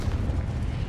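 Confringo fire spell blasting in Hogwarts Legacy, a deep rumbling low boom that rolls on steadily through the short moment, heavy and close.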